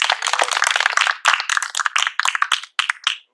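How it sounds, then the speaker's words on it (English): A small audience at a poetry reading claps for a reader. The clapping starts as a dense patter of hands, then thins into scattered, separate claps that die away within a few seconds. "Let's have another round of applause for Stephen R. Wagner"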